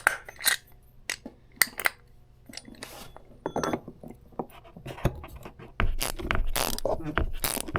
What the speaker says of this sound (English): we'll go ahead and pull the filter. Now I ordered a socket for this filter.